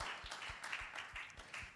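A small conference audience claps for the session assistants at a working session, a steady patter of many hands with regular soft thumps, faint and somewhat distant, with no voices over it.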